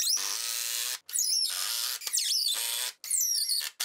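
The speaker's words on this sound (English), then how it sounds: "All we're gonna do is put three or four screws in here" Screws being driven into 2x10 lumber with a power driver: three near, loud bursts of whining motor noise, each lasting about a second and separated by short pauses, with a rising pitch as each screw seats.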